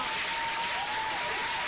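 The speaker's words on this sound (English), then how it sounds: "let's give him a roaring round of applause." Steady applause from a crowd during a radio show, a continuous dense patter of clapping at moderate volume with a faint tone running underneath.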